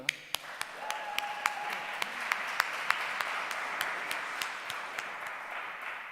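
Audience applause at the 10-year anniversary Kalamazoo Poetry Festival, a steady wash of clapping from a crowd with a few sharp, distinct claps popping out, lasting several seconds at a moderate distance.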